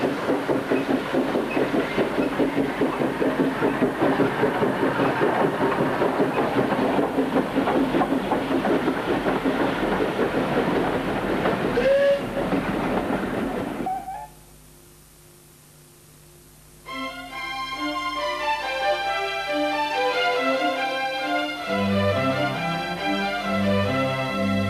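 Hunslet 0-6-0 saddle tank steam locomotive hauling a passenger train to Bodmin Parkway, heard as a loud, steady rumbling and rhythmic clatter for about fourteen seconds before it cuts to music.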